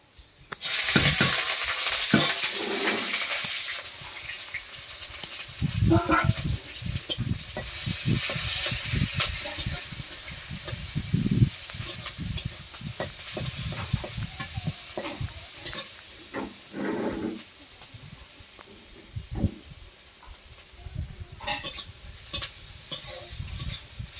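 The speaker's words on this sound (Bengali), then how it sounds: "এবার মাছ আলুর তরকারিটা বসাবো, কড়াই দিয়ে দিচ্ছি পেঁয়াজ, কাঁচা লঙ্কা আর রসুন কুচি।" Chopped onion, green chilli and garlic frying in a wok for a fish and potato curry give a loud, close sizzle with repeated stirring scrapes and clatter, easing to quieter frying near the end, with no talking.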